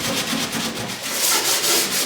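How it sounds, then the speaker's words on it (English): Steady abrasive scuffing of sandpaper rubbed back and forth inside the rear bulkhead of a PT11 boat hull, a continuous close rasping with gentle rhythmic strokes and no talking. "just going to scuff an area on the side, inside the rear bulkhead here, so we get a good bond."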